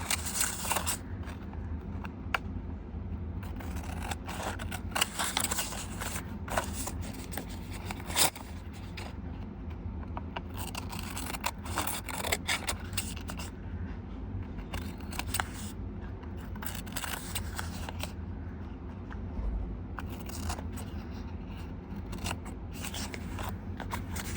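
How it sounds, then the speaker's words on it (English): Paper being trimmed around the edges of a transparent magazine-image lift, close up, with steady crisp scraping and snipping strokes repeating over a quiet room hum throughout. "now I'm going to just turn it over and trim away the overhang"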